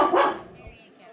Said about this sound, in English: Apologies for the barking dog.